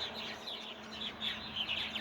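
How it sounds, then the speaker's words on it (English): Adult and fledgling purple martins come in to roost for the evening, giving repeated high chirps and twitters over a soft steady hum, fairly faint and distant. "what you see here is purple martins coming in to roost for the night"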